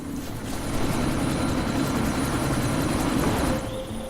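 Helicopter in the video game Deus Ex: Mankind Divided, a loud steady rotor thump and engine roar that holds close and constant, no voices over it.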